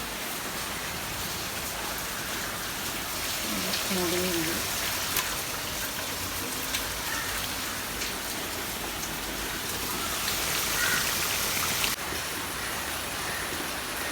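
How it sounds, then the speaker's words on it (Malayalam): Steady rain pours down in a dense, continuous hiss, with a faint voice briefly audible beneath it. "കാലത്ത് തന്നെ നല്ല മഴ ഉണ്ട്."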